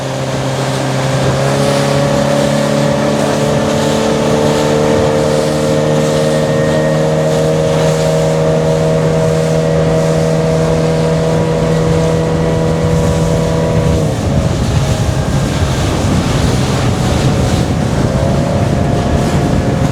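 A Sea-Doo Spark jet ski runs over sea waves with a loud, steady engine drone held close for a long stretch, then the pitch drops and the tone shifts to rougher water-churning roar as the throttle changes.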